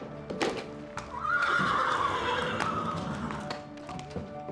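A racehorse at a racecourse gives a loud, drawn-out whinny lasting about a second and a half, with scattered hoof clip-clops and taps before and after it.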